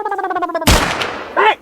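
A single loud gunshot cracks out at a bottle target outdoors, cutting off a buzzing tone and trailing into a short decay before a brief voiced sound.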